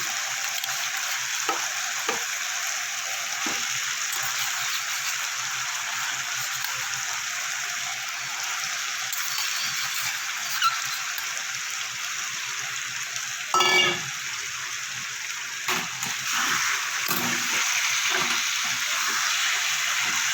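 Chicken pieces frying with spice masala in a pan, a loud continuous crackling sizzle throughout like heavy rain, with a few brief clatters of a spoon near the end, no talking.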